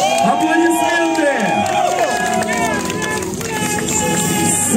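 A festival crowd at a top-battle championship cheers and shouts loudly, with rising whoops and yells layered over a dense roar of voices from start to finish.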